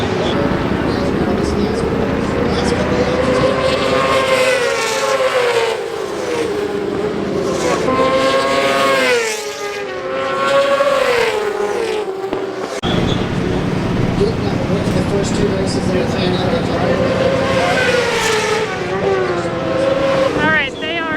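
BMW M1000RR superbikes in a Stock 1000 race at Barber roar past one after another, engine notes rising and falling as each machine sweeps by, loud and continuous for the whole stretch.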